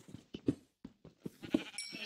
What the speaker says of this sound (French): C'est des moutons.